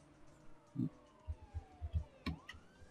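A police siren in the racing game Need for Speed: World wails faintly in the background, its pitch sweeping down and then rising again, with soft rhythmic thumps underneath.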